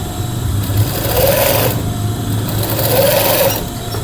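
A sewing machine stitches a collar in two steady, fairly loud bursts of whirring needle motion, with a short slowdown between them and no talking.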